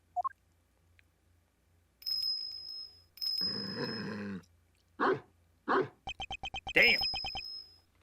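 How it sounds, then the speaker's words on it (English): A big dog growls and barks in the video game Ace Attorney Investigations 2, with a long growl and several sharp barks among bright game tones, and a brief spoken exclamation. "Look at that big mutt. Just look at that thing."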